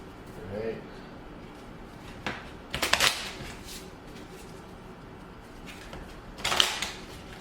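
A deck of cards is shuffled in a few quick riffling bursts, soft and close, with quiet handling noise between them.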